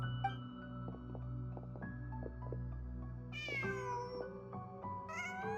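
Cat meowing in Genshin Impact: a few short, clear meows over a steady hum of game ambience and music, the last two rising sharply near the end.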